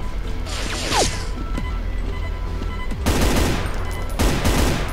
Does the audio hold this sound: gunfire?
yes